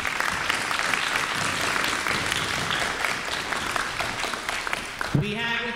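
Steady applause from a middle school crowd during a special visit event, a broad wash of clapping that holds for several seconds before a voice begins speaking at the end.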